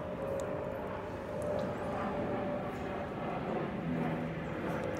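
A distant airplane drones steadily overhead outdoors, a continuous broad low rumble with no breaks, heard at moderate level and unaccompanied by speech.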